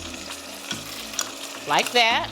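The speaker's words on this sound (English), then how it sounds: "We're sauteing or frying this pepper sauce with the onions, with the butter." Pepper sauce with onions and butter sizzles and fries steadily in a pan, with stirring noises, and a voice briefly speaks over the cooking near the end.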